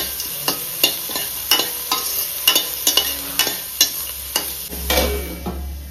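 Beans tossed into onions frying in a pan, a soft sizzle beneath sharp, repeated scraping strokes of a spatula stirring at an uneven rhythm, close and alone.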